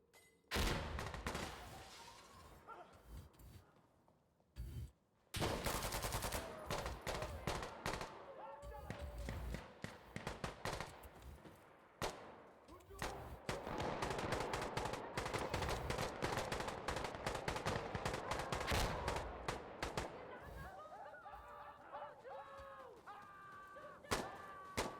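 Gunfire in the video game Battlefield: Insurgency, played against 50 bots: dense bursts of automatic rifle and machine-gun fire crackling almost nonstop, with volleys and thuds layered over one another and voices calling out now and then amid the shooting.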